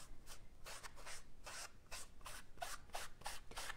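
Quick back-and-forth rubbing strokes brush excess gilded leaf off the edges of a piece, a soft, dry, rhythmic scratching of about a dozen short passes, close and quiet with no talking.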